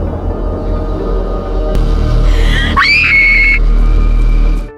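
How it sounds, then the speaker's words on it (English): A woman's high, wavering scream rises loud and close over a constant low rumble, breaking into a sharp shriek midway and holding until it cuts off. "Everyone outside heard the screams."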